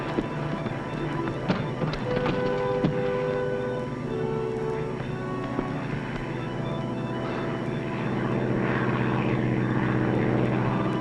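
Propeller airplane droning overhead, a steady engine hum holding at moderate loudness throughout with no talk.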